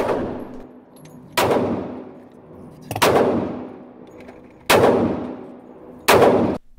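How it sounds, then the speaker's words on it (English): Four loud, evenly spaced Steyr rifle shots at a target range, each a sharp crack followed by a ringing decay, with quiet gaps of about a second and a half between them. "the Steyr is a fantastic gun to shoot."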